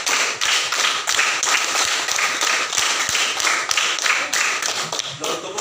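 A standing group of teachers at a school training session claps in a counted pattern, sharp hand claps repeating in rhythmic bursts, loud and close, with voices faintly underneath.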